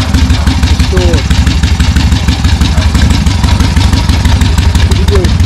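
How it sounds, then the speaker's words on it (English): A restored Harley-Davidson Ironhead Sportster motorcycle engine runs steadily and loudly up close, with a continuous lumpy idle-like rumble throughout. "Ironhead sportster running."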